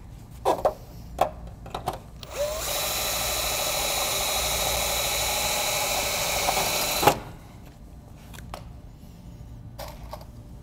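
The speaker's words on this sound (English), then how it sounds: "since you have your drill, we can do both of these" A steady, loud power drill drilling into a metal roof at chimney flashing runs continuously for about five seconds, preceded and followed by a few sharp clicks and knocks.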